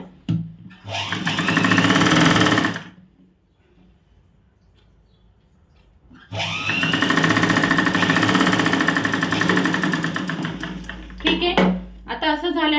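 A sewing machine stitching a blouse runs in two loud, rapid mechanical bursts close by, separated by a quiet pause, ending with a few short stops and starts.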